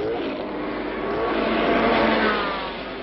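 High-performance sports cars race at high speed in a loud, sustained engine roar that swells and fades slightly as the cars pass, with no voices.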